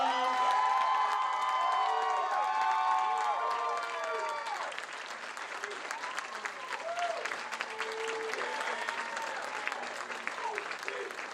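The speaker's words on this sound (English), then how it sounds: "Everyone give him a huge round of applause." A graduation capstone audience applauds and cheers for an honored professor, steady clapping throughout with whoops and excited voices calling out over it, louder at the start.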